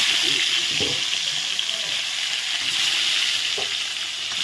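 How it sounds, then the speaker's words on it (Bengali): Potatoes fry in oil left over from frying eggplant, tempered with black cumin seeds; a loud, close, unbroken sizzle fills the whole stretch, with a faint voice barely audible beneath it. "আলুগুলো একটু ভালো করে ভেজে নিচ্ছি"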